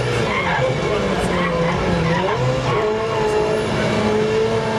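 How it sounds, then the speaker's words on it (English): A race car in Project CARS 2 drives hard and skids, with loud continuous engine drone and shifting tire squeal as pitch slides up and down, close and sustained, a voice faintly underneath. "Fantastic sounding car, it really is."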